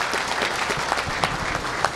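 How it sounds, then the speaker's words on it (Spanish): Applause from an audience at an official handover ceremony where rural extension workers receive a fleet of about 900 vehicles, a dense steady wash of clapping throughout with a few sharper claps standing out. "fuerte aplauso, por favor."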